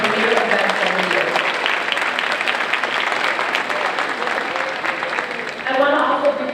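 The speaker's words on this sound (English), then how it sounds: "Let's give ourselves a big round of applause" A crowd at the Susan B. Anthony Women of Influence Awards breaks into sustained applause, a loud, even wash of clapping with voices mixed in that swells again near the end.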